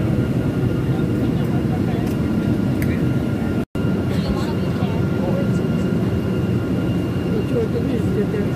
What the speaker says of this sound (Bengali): সকাল 8:30টায় উড়ল বিমান।